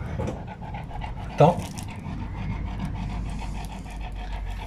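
A female dog pants close by in a garage while a Renault Mégane 2 1.5 dCi has its front discs changed and brakes bled, a steady quick breathing under a brief spoken word and workshop noise.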